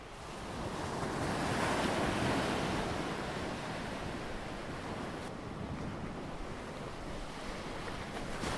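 Ocean waves crash and wash against a small rocky island of grass and soil in a Korean marine national park: a continuous loud surf roar with wind noise, swelling early and then holding steady.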